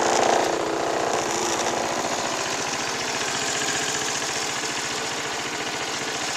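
A 2009 CF Moto Glory 150 motorcycle engine idling on its kickstand, a steady, rapid, throbbing putter, close and constant throughout with no talk.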